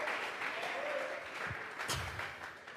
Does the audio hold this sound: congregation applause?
yes